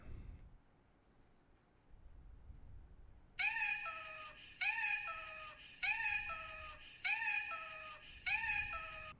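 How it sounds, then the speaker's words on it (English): A cat makes strange, repeated meows straight into a microphone, five loud, close, drawn-out cries in an even, looped rhythm after a quiet start. "I don't know why your cat's making those sounds."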